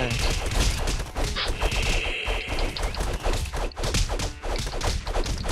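Rapid bursts of bow shots in the video game Castle Crashers, dense and continuous, with sharp impacts and crashes layered in a busy mix.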